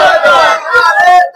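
At a night gathering, a crowd shouts a religious slogan, the takbir, in loud chanted bursts that rise and fall in rough unison. The voices sound close and strong, with a brief pause near the end.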